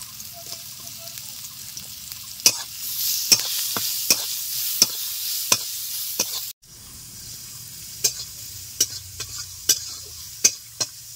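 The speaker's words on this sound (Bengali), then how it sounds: "পেঁয়াজ কুচি দেওয়ার পর আমি 2 মিনিট মতো নেড়ে নিলাম" A steady frying sizzle of chopped onion broken by sharp scraping clicks of a spatula stirring in a pan, in an irregular rhythm, close by.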